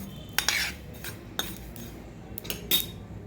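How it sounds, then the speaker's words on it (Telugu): Sesame seeds roasting in a pan for tomato chutney, with scattered close clinks and scrapes of a spoon stirring them against the metal over quiet background noise. "నువ్వులు వేగాయి అంటాయి కదా అప్పుడు వేగినట్టే నువ్వులు"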